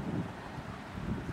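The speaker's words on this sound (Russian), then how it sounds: "быстро двигается ветер, очень сильный сегодня." Strong winter wind buffets the microphone in a low, steady rumble with gusty swells, lasting barely a moment with no voices.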